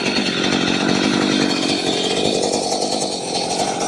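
A chainsaw revs steadily while cutting firewood logs, a loud, close, continuous engine whine and buzz that holds for the full stretch with slight shifts in pitch as the chain bites the wood.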